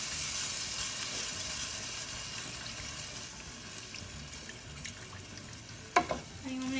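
Bone broth poured and stirred into a flour roux in a pan for chicken pot pie, a faint steady sizzling wash with liquid swishing, ending in a few soft scrapes and clinks of a spoon against the pan.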